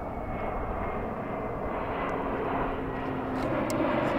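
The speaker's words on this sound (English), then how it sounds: "airplanes above us." An airplane on the flight path to Shannon Airport drones over a mountain hiking trail, a steady, moderately distant engine roar with faint outdoor ambience and no talking.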